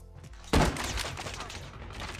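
The Legendary Locus Demonic Breath sniper rifle in COD Mobile fires one loud, close shot with a sharp attack and a lingering rumbling tail, set against game background noise.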